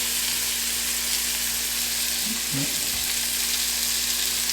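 Sliced onion frying in hot butter, a steady close sizzle that holds evenly throughout, no voices over it.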